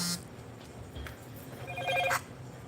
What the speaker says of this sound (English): I got a call coming in, and so I had to reject that pretty quick.